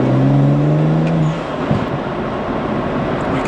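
A tuned 500 HP 2008 BMW 335i engine opens up, its strong low harmonic drone holding loud for over a second before easing off into a softer, steady whir.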